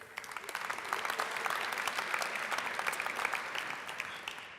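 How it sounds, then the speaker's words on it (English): Sustained applause from a conference audience for competition judges, dense clapping that stays full and even throughout. "also a round of applause to our judges"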